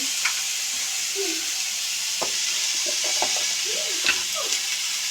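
Food stirred in a pan as it cooks, a low steady sizzle and hiss with scattered scrapes and light clinks, close by, with faint voice-like sounds in places.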